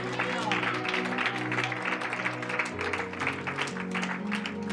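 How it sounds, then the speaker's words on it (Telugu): A church congregation claps loudly in steady, sustained applause, mixed with music and voices. "బిగ్గరగా గట్టిగా చప్పట్లు కొట్టి ప్రభువుని మహిమ చెల్లించండి"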